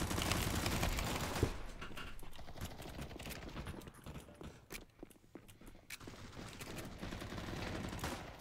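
Dense, rapid gunfire bursts from the video game Counter-Strike 2 dominate, mixed with quick footstep-like clatter, pausing briefly in the middle before firing resumes.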